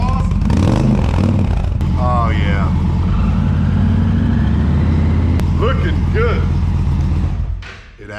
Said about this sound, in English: Got my tab performance exhaust.